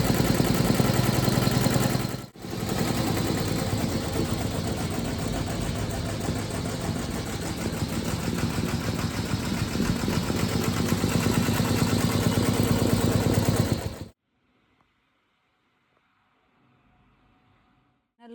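A computer embroidery machine stitching a blouse design runs with a dense, steady mechanical whir and rapid needle clatter. Close and loud, it breaks off briefly early on and then stops, leaving near silence.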